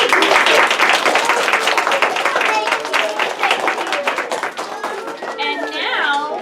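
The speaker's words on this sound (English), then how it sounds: "let's give them applause." Applause in a classroom for two groups of children whose toys reached the final of a pitching contest, a busy patter of clapping mixed with young voices that thins out toward the end.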